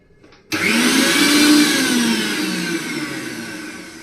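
A mixer grinder making mango shake starts abruptly and runs with a loud whirring roar, its pitch shifting slightly as the blades churn, then easing a little.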